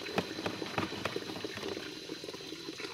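A bottle of liquid fertilizer solution for snake melon plants is shaken by hand to mix it. It sloshes and gurgles in quick, irregular bursts at close range, with no talk.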